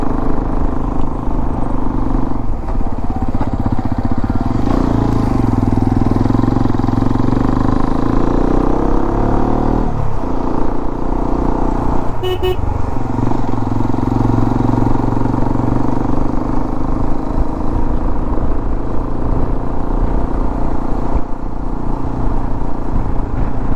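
A motorcycle engine running steadily and loudly close by, a constant low rumble with a faint clattering tick over nearly twenty-four seconds, near a stretch of road under repair at a hill fort, with no talking.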